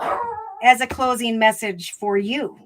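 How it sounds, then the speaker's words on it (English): A dog barks and howls close by in long, pitched, wavering cries mixed with yips, while a person speaks over it. "Pardon my dog."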